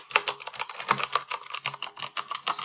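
Fingers type rapidly on a SteelSeries 6Gv2 mechanical keyboard, producing a close, crisp stream of irregular clacking keystrokes with no talking.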